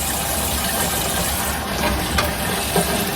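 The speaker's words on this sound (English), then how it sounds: "I'm going to go ahead and start running some cool water into my other side of my sink with my colander." Cool tap water running into a kitchen sink with a colander: a steady, loud, full gush of flowing water splashing continuously, alone without talk.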